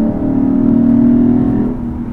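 Lexus IS500 V8 engine pulling hard in second gear, a loud, steady, close-up growl that swells through the middle of the run and eases slightly near the end, with no voices over it.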